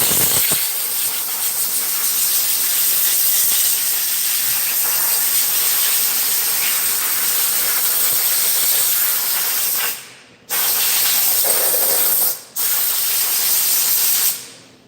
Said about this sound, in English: I mean, blowing, not spraying, blowing.